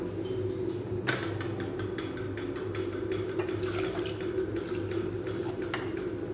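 Water pours steadily into a cooking pot of pumpkin sambar with a low hiss and faint splashing, close by, with occasional clinks of metal.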